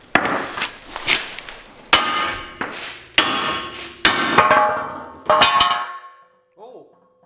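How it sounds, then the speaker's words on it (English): A hammer strikes metal parts on an electric kei truck, giving about eight sharp, ringing clanks at uneven intervals, close and loud, followed by a faint trailing sound. "This is what I needed the hammer for."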